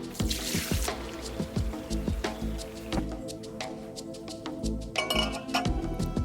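Water poured into glass jars while making winter preserves, with clinking glass, drips and trickles in irregular bursts, close and fairly quiet.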